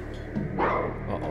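A lupine skeleton dog enemy in the game Lunacid gives a short bark amid low game ambience, faint and brief.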